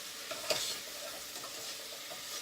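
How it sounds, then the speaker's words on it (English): Okra masala with tomato and green pepper is stirred briefly and quietly in a pan, giving soft scraping strokes over a low, gentle sizzle. "I'm going to give it a quick mix around so that at least everything can get going together."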